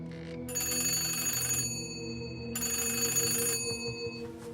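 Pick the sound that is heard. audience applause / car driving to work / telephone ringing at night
telephone ringing at night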